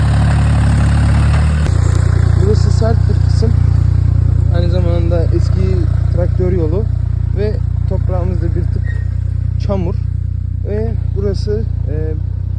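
A Tümosan 5265 tractor engine runs at a steady idle in an olive grove, with a loud, continuous low rumble throughout and someone talking over it.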